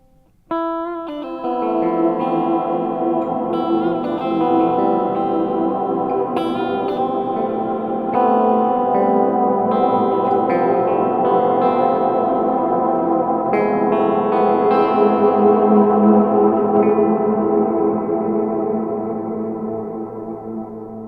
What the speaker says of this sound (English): this is a pitch delay into a pitch delay